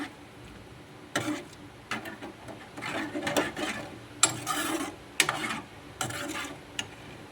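Cucumber and dried prawn curry being stirred in a pan, with intermittent scraping and knocking strokes of a spoon against the pan, quiet and close, with no voices.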